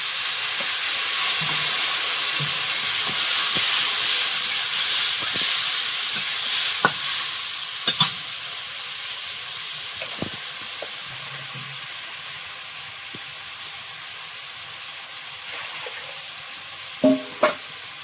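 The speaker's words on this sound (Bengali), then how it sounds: "মশলাটা ভালো করে কষিয়ে নিয়েছি" Spice paste with turmeric, cumin and coriander frying and being stirred in a pan for a river fish curry, a steady soft sizzle with occasional scraping clinks of a spoon, close and alone.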